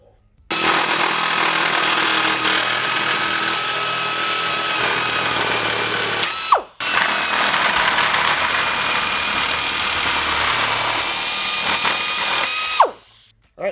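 A power tool cuts out the two center bars of a 2005-07 Ford F250 grille, a loud, continuous high-pitched grinding whine in two long runs separated by a brief stop, close and without talk.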